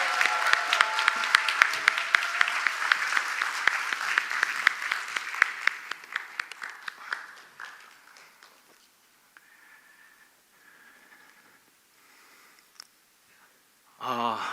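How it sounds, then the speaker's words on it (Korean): An audience at a lecture forum in Jeju claps loud and dense to welcome a speaker onto the stage. The clapping thins to scattered claps and fades into quiet room noise, then a short loud burst comes at the end. "여러분 뜨거운 박수로 환영해 주시기 바랍니다."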